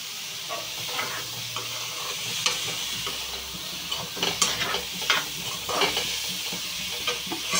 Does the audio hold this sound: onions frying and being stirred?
yes